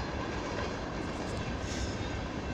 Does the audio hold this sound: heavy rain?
no